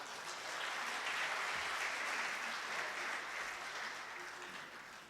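An audience at a poetry recital (mushaira) in Bahrain applauds a poet, a soft, steady round of clapping heard from a distance that swells and then tapers off.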